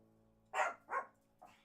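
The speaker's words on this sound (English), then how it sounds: "The doggy talk has begun." A dog barks indoors, two quick sharp barks in succession followed by a softer third after a short pause, close and clear against a quiet background.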